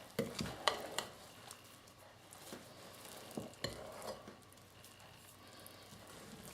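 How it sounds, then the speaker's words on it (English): A spoon gently stirs gluten free pie crust dough in a bowl, making soft, irregular scraping and tapping strokes at close range, fairly quiet with a few sharper knocks. "we will just gently stir this together"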